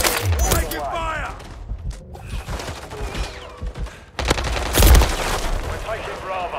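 Gunfire in Call of Duty: Modern Warfare 3 on the Rust map: rapid automatic bursts and single cracks, close and loud, with a heavy blast near the end, over game music and callouts.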